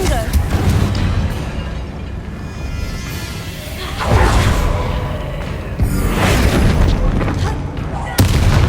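A Confringo fire spell blast in the Hogwarts Legacy video game, heard as loud booming bursts with whooshing impacts over dense game combat noise, with stronger blasts near four, six and eight seconds.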